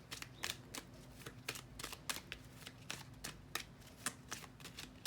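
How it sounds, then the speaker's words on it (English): Tarot cards are shuffled close by at low volume: a quick run of crisp, papery riffles and soft slaps in an uneven rhythm, with no voices. "Let's see if we get one more outcome card for Richard Allen's confession."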